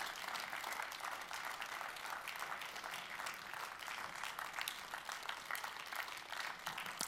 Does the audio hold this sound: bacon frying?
no